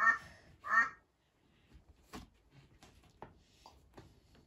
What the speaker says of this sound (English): Listen to the duck.